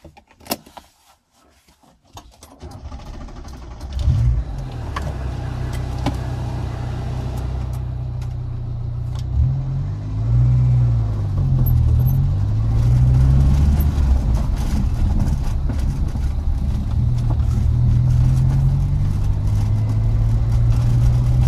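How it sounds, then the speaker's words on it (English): A 1988 Ford Festiva starts after a few clicks and clunks, then its small engine drones steadily and revs up and down while driving, loud and close throughout. "let's take the car for a drive"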